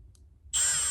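A high-pitched drill suddenly whines to life and keeps boring steadily through metal, loud and close, after a quiet low rumble, while installing fixed-back racing seats.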